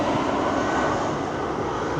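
Steady aircraft engine roar near Trabzon airport, moderately loud and continuous, like a plane passing at a distance near a runway, with no talking.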